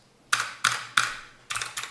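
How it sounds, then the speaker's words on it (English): Cherry MX mechanical key switches on a DIY ESPHome control pad click crisply up close: three evenly spaced presses, a short pause, then a quick cluster of rattling clicks, with no voices. "Now you understand why I really like the clicking sound of the Cherry MX."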